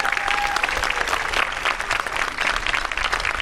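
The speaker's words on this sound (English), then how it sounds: "And one more round of applause for these wonderful clarinet players." Audience applause for the clarinet players at a school band concert, steady dense clapping that fills the whole stretch at an even level with no talk over it.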